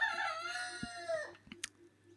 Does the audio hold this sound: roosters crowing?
yes